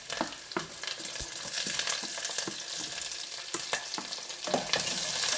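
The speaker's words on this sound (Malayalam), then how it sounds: "ഇനി നന്നായി ഇളക്കി കൊടുക്കുക." Ginger, garlic, green chilies and dried red chilies frying in oil in a pan, a close crackling sizzle with frequent quick stirring scrapes and taps, and no speech.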